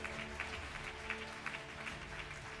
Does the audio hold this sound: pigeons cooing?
no